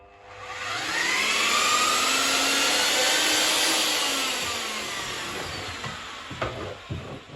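A Tecmix TMX Pro electric paddle mixer spins fast to fling off muck, giving a loud, steady motor whine that rises, holds and then slowly winds down.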